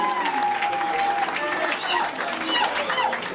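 Audience at a public event applauding a female professor of psychology and education sciences, a burst of steady clapping with cheers and voices mixed in, fairly close and lively throughout.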